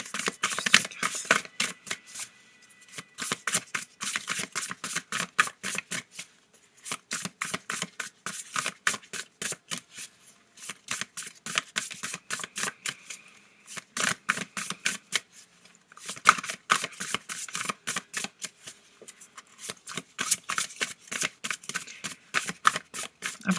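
Tarot cards shuffled and dealt by hand, a close run of rapid riffling bursts broken by short pauses, with no voices.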